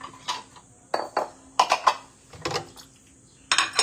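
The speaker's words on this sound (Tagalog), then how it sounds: "habang naghuhugas tayo, magchika-chika tayo" Dishes, pots and pans clatter while being washed, with sharp clinks and knocks of metal and glass coming in irregular bursts, close and fairly loud, with no talk over them.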